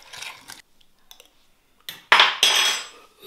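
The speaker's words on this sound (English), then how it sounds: "Then we stir it up" A spoon clinks and scrapes against a bowl while pancake batter with sugar is stirred, in short bursts of close metallic scraping separated by a quiet pause.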